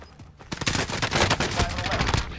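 Rapid gunfire in the video game Call of Duty Warzone, a dense burst of automatic shots rattling for about two seconds, loud and close, with a player talking over it.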